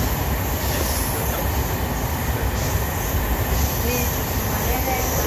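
A train runs steadily between Yeshwantpur and Mysore, giving a loud, continuous rumble of wheels on the rails with faint squeals, heard from inside the carriage.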